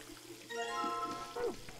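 Water poured into an empty jar in the puzzle game Zero Escape: Virtue's Last Reward, a short gurgling pour with rising bubbly tones, fairly quiet and heard alone.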